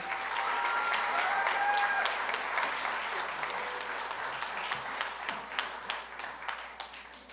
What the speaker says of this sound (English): Please give a warm round of applause for Kimora Cabral Murphy.